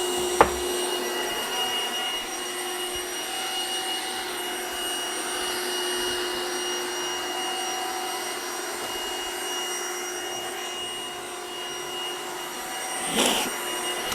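A Trifo Maxwell 2500Pa robot vacuum cleaner runs with a steady, loud whirring hum and faint tonal whine throughout, with a sharp knock near the start and a brief bump and rattle near the end.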